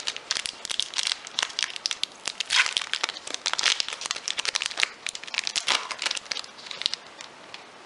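A Japanese apple pie Kit Kat wrapper is handled and opened, giving close, dense bursts of plastic crinkling and crackling with a few sharper tearing rips, and no voices.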